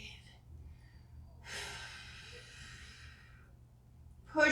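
A single long, soft, airy exhale during a stick mobility stretching workout with backbends and hip openers, close by and fairly quiet, lasting about two seconds between stretches of near silence.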